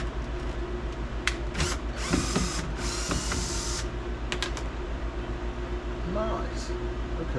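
A Phillips head screw is worked loose inside a Fiat 500 during a rear seat removal, with a run of sharp clicks, ratcheting scrapes and short mechanical bursts, fairly close, amid faint background hum.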